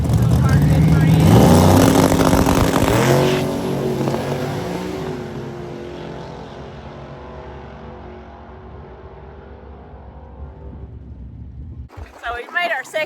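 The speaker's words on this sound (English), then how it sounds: "So this little truck right here has one of our motors in it." Small race truck at the track fitted with a locally built motor, its engine roaring loud and close, revving up and then fading as it pulls away down the strip, with talk and noise returning at the end.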